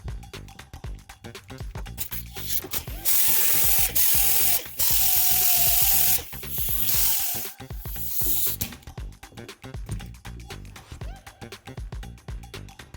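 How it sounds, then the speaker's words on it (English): A red sanding disc grinding against stainless steel in bursts, a sustained high hissing whir that cuts in and out, with clicks and handling noise between passes. "we're going to sand using our red sanding disc"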